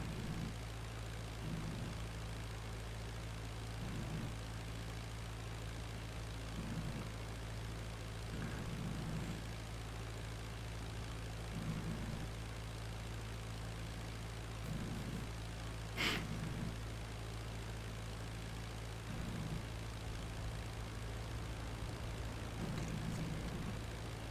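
WWI propeller plane engines droning steadily in the IL-2 Flying Circus flight game, a loud constant low hum with faint rhythmic pulses from other aircraft and one brief sharp crack midway.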